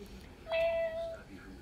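A person imitates a cat's meow with a single drawn-out, slightly nasal tone lasting about half a second, close and clear over a faint background hum.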